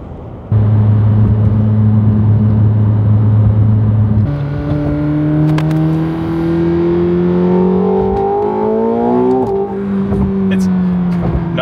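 A McLaren 750S supercar on a cafe run, its engine droning steadily at first, then rising in pitch through a gear as it accelerates before settling, loud and close from inside the cabin.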